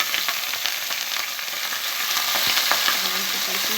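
Raw chicken hits hot oil and fries with a loud, steady, close sizzle that holds without a break. The chicken has been seasoned with a grilling spice mix.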